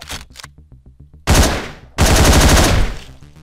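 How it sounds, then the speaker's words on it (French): Shotgun blasts in the Hotline Miami video game: two loud, close booming shots, each followed by a short decaying tail, over a rhythmic synth backing track. "Je lui ai tiré deux coups de shotgun"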